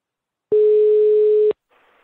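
A single long electronic ringback tone during a Brazilian radio show phone call, a steady pure beep lasting about a second, followed by faint line noise.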